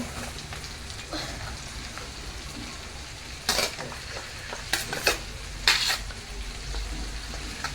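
Potato, onion and tomato go into a pan of hot butter with cumin, ginger and garlic, giving a steady close sizzle with louder hissing bursts as each batch hits the fat.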